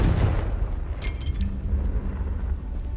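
A Confringo blasting spell from Hogwarts Legacy booms in a heavy, rumbling explosion that lingers and fades, with a brief crackling burst about a second in.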